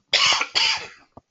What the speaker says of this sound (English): I have a little cough going today